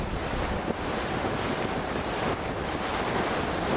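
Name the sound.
strong wind and waves on the water while cruising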